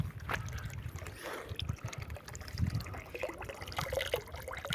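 Water pours from the outlet of 200 meters of solar heating tubing into a swimming pool, a continuous splashing, burbling flow heard up close and fairly steady, with wind-like rumble underneath.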